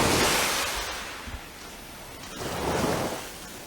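Ocean surf at Sandy Lane Bay at daybreak: a steady wash of breaking waves that swells, eases off, then rises again as another wave rolls in, heard alone at a moderate distance.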